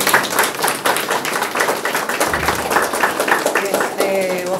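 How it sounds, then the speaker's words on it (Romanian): Audience clapping at a painting exhibition event in Târgu Ocna, a moderate patter of hands at a steady pace, close by and fairly loud, with voices talking underneath and a brief tonal sound near the end. "Să știți că primim aplauze!"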